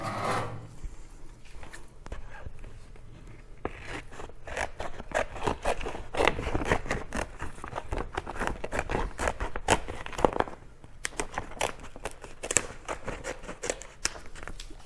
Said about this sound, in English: Going to take my scissors